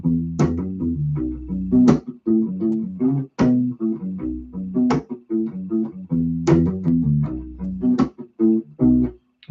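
U-Bass groove played with a double thump technique followed by plucked notes, punchy low notes in a repeating syncopated pattern with sharp percussive attacks, close and loud, no talking.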